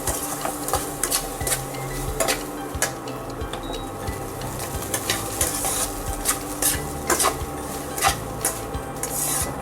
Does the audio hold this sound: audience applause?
no